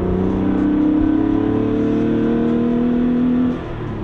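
A Porsche 964 engine pulls steadily under acceleration, a continuous close droning hum with slowly shifting pitch that eases off near the end.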